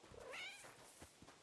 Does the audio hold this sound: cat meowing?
yes